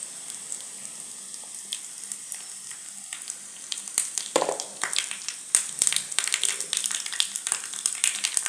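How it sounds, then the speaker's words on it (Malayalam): Mustard seeds fry in hot oil for paripu curry, a close bright sizzle that grows busier, with scattered crackling pops and bursts as the seeds start to spatter. "കടുക് ഇടാം."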